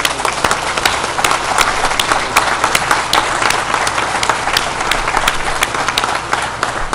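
Sustained applause from a crowd at the inauguration of the Santa María dam in Rosario, Sinaloa, dense steady clapping filling the whole stretch with no pauses.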